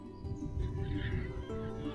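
Idaho wild horses neigh and whinny among other herd noise at moderate distance, with speech mixed in underneath.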